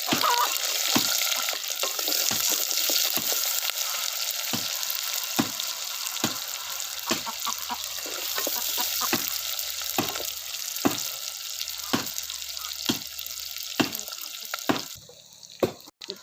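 Onions frying with green chillies and garlic for a tamarind vatha kuzhambu, a steady close sizzle broken by repeated sharp scrapes and clicks of a spatula stirring in the pan.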